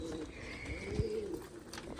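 Pigeons coo at close range around a rooftop loft, a soft throaty warbling call rising over a low ambient hum, with a faint bump in the middle.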